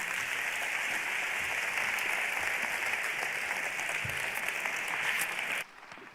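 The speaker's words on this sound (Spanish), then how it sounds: "vamos a darle un fuerte aplauso a Ágata Ruiz de la Prada" An auditorium audience applauds a fashion designer as she takes the stage, a dense even roar of clapping that holds steady and then cuts off abruptly near the end.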